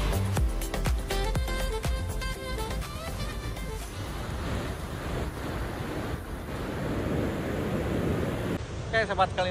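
Ocean waves wash at Citanggeuleuk beach in Garut, a broad rushing surf noise with wind buffeting the microphone, partly overlaid early on by music before the surf dominates.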